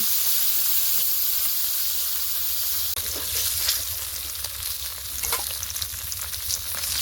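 Fish frying in hot oil in a wok, a steady loud sizzle and crackle throughout with bursts of spattering in the second half.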